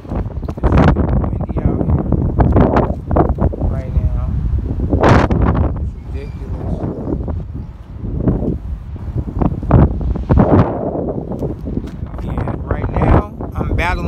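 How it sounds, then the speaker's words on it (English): Wind buffets the microphone outdoors at night during crabbing, a constant low rumble and rustle under someone talking throughout. "this wind out here it's a mess."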